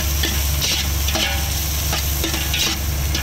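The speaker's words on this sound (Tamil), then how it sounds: "எல்லாத்தையுமே நல்லா பொன்னிறமாக ஓரளவுக்கு வதக்கிக்கலாம்." Ingredients for a catfish curry are sautéed in a pan aboard a fishing boat at sea, with a constant close sizzle broken by regular scraping stirs of a spoon against the pan.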